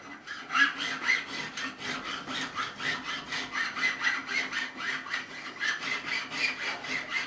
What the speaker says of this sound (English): once I'm getting no resistance, I know I've filed it enough